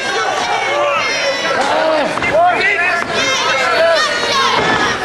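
A wrestling event crowd roars and cheers continuously with excited chatter throughout, while a commentator talks over the noise.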